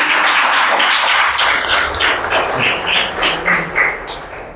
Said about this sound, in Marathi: चला भूषणसाठी एकदा जोराने टाळ्या होऊ द्या